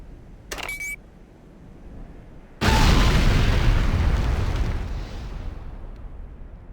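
A short mechanical beep, then a sudden loud blast followed by a long rumbling roar that slowly fades, a detonation in the video game Command & Conquer: Renegade.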